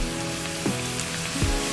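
Dhapate flatbread fries in hot oil with a dense, steady crackling sizzle like rain, with a couple of faint clinks of a utensil.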